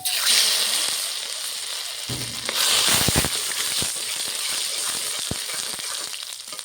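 Halved dried red chili, five whole spices and ginger dropped into hot oil for a mixed vegetable ghonto, a loud close burst of sizzling that settles into steady frying with a few sharp pops.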